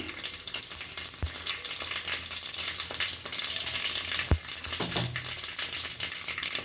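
Fennel, cumin and mustard seeds hit hot oil with a dense, loud crackling sizzle, broken by a couple of sharp pops or utensil knocks.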